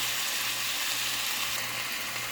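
Chicken tenders sizzle in a pan, a steady loud hiss of frying with a faint low hum beneath, continuous and close with no talking.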